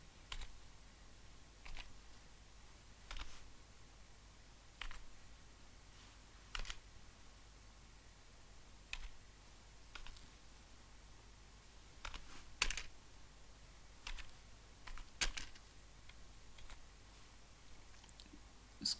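Someone types on a computer keyboard while entering a matrix in MATLAB, with quiet irregular clusters of key taps and a few sharper single clicks over a faint room hum.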